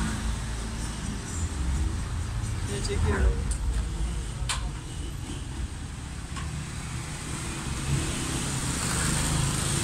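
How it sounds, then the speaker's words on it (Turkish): Busy street traffic in the covered market district of Ödemiş, Turkey, with cars and motorbikes passing close by, a steady roaring rumble of engines throughout while a person speaks briefly. "bu arabaların ve motorların gürültüsü gerçekten çok kötü"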